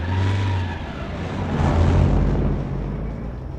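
A car engine in a night scene from a Tamil action thriller, loud and close at first, then swelling into a roaring pull-away that holds steady as the vehicle drives off.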